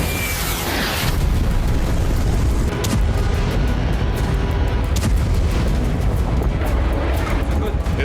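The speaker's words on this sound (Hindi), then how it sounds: "तीन दिनों से लेबनान की राजधानी बेरूत में इसी तरह से विध्वंसक बमबारी हो रही है" Bombing in Lebanon's capital Beirut rocks the city with loud, continuous low booms and rumbling blasts that run the whole time, with a stronger burst partway through.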